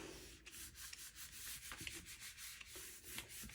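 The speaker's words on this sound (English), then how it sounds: "I'm going to rub on this." Paper is rubbed firmly by hand onto a gelli plate print, a series of soft, rhythmic scratchy strokes, close and fairly quiet, with no talking.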